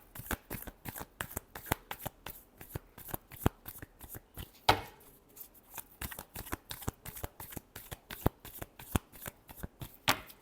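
Tarot cards shuffled by hand in quick, repeated riffles and slaps, a close, crisp run of rapid clicks and flutters that keeps going throughout, fairly quiet and without speech.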